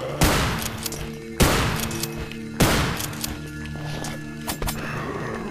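Shotgun blasts in the video game Afraid of Monsters: three loud booming shots roughly a second apart, each followed by a ringing tail, then softer thuds and clicks.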